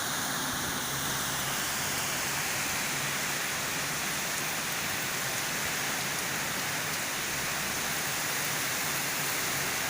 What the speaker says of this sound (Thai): ลมนี้ก็จะแรงมาเป็นระยะนะครับ